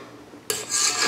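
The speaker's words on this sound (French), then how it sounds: "Maintenant je vais commencer à pétrir ma pâte." Baklava dough being kneaded by hand with soft butter worked in, a sudden onset of close, rasping, rubbing friction that continues steadily, with no talk.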